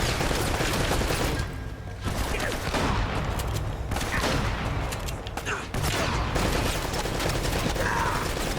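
Turret gunfire in Uncharted: Drake's Fortune pours out in a dense, loud, continuous barrage, with sustained rapid bursts that barely let up and only brief thinner gaps.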